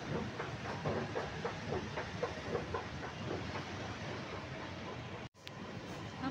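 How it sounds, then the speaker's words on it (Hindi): A metro station gives a steady, fairly faint rumble and hiss, with a soft rhythmic clatter of a passing train and a brief dropout near the end. "हम पहुंच चुके हैं मेट्रो स्टेशन।"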